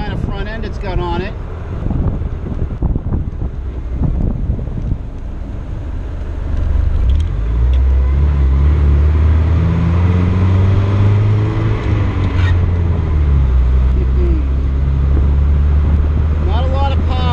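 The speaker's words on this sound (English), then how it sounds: "Not a lot of power, not to be expected of a just under 200 cubic inch 4-cylinder, half a V8." An International Harvester Super Scout II with a 4-cylinder engine of just under 200 cubic inches drives along, its low engine note rising as it accelerates, heard from inside the cab with steady wind and road noise and a voice talking early on.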